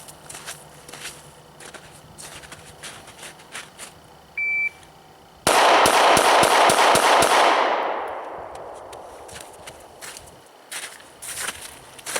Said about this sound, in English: And we'll just basically fire all the rounds that we can.